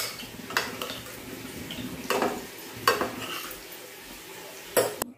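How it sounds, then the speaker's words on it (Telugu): Mushrooms stirred into a village-style tomato curry in a pan: a soft fry sizzle broken by several sharp clinks of a utensil striking the pan at irregular intervals, close and with no talk. "టమాటాలు వేగాక కట్ చేసి పెట్టుకున్న మష్రూమ్స్ ని వేసుకొని బాగా కలుపుకోవాలి"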